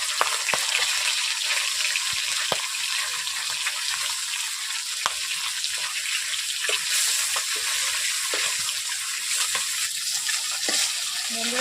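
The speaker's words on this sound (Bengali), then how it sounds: "আমি মাছগুলো কেমনভাবে ভাজছি দেখতেই পাচ্ছেন আপনারা।" Fish pieces fry in hot oil with a constant, bright sizzle, dotted with small pops and occasional clicks as the pieces are turned.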